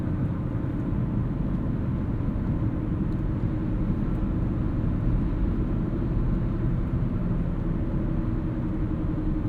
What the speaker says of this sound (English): A little bit of tire noise